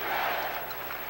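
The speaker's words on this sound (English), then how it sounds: "The crowd comes alive. They want some defense." A basketball arena crowd at a 1980 Suns–Lakers playoff game roars in a broad, sustained wash of cheering, fairly faint and distant, easing slightly toward the end.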